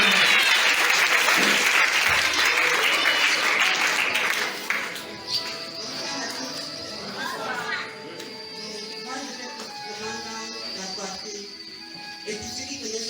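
A church seminar audience applauding loudly and steadily at first, then fading into scattered claps, murmurs and children's voices in a reverberant hall.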